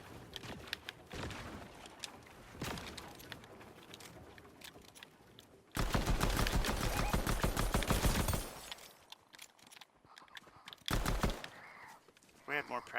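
Pulse pistol fire in an OG battle royale video game, heard as dense loud bursts of shots with sharp sporadic cracks around them.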